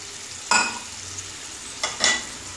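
Yogurt cauliflower curry (Bengali doi fulkopi) on a very low gas flame in a pan as water goes in, two short splashy bursts of pouring or stirring over a faint, quiet bubbling background.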